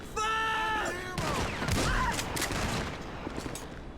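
Gunfire in GTA V with the LSPDFR mod cracks out in a rapid burst of several shots, loud and close, then fades into echoing rumble and scattered noise.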